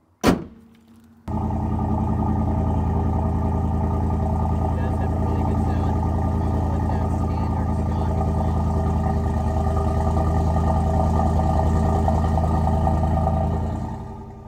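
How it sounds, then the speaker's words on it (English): A Ford 7.3-litre Godzilla V8 runs at high idle after a thump at the start, then holds a steady, loud, low engine drone close by for the rest of the time, with no speech over it. "Once the high idle turns off, it idles down nicely."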